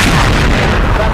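A grenade blast in the XSHOT online shooting game sounds as a loud, dense, sustained boom lasting about a second, full of low rumble with no clear separate hits.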